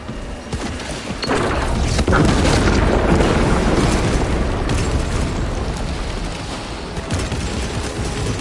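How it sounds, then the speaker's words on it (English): Melter bomb going off in Warhammer 40k Space Marine, a loud sustained booming blast with crackling debris and rumble that holds steady for several seconds after a sharp onset. "Melter bomb prime"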